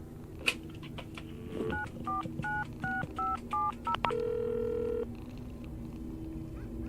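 Telephone keypad dialing in the video game Pieces of Me: a quick run of about eight separate two-tone beeps, each short, then one longer held tone, all clear and alone with no talk over them.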